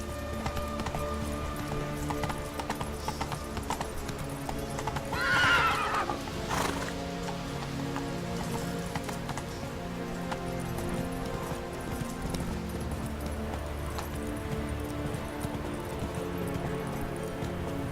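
Roach, the horse in The Witcher 3, gallops with steady clip-clop hoofbeats and lets out a clear neigh about a third of the way through, over a constant game soundscape with no talk.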